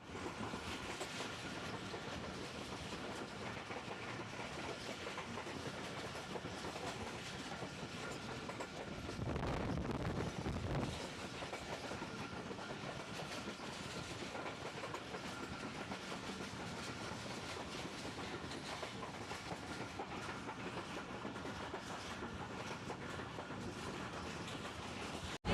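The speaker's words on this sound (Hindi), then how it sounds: "और बाकी ट्रेन चल चुकी है, सफ़र करते हैं दिखाते हैं आपको" A moving passenger train in Pakistan, travelling from Karachi toward Punjab, clatters steadily on the rails with a dense, continuous rumble and a brief louder surge partway through. No voices are heard.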